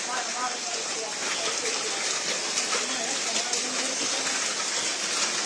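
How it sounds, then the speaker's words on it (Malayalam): Very heavy rain pours down in a steady, dense hiss that continues without break, with no voices heard over the downpour. "ഭയങ്കര ശക്തിയായ മഴയാണ് പെയ്യുന്നത്."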